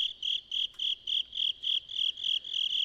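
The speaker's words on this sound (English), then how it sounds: "The crickets aren't as loud." Crickets chirp at dusk in the video game Trap Shrine, a steady, evenly pulsed high trill repeating about four times per second, clear and alone over a quiet background.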